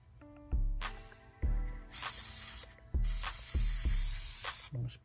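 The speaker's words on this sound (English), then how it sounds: "I'm gonna spray this side." Adhesive spray from an aerosol can hits a plant stand in several separate hissing bursts, each lasting about a second, with short pauses between them.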